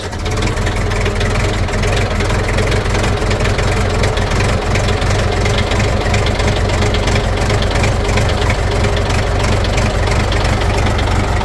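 Tractor engine running at a steady, loud idle just after being repaired and started, a continuous low rumble with a faint knocking texture and no pauses, no voices over it.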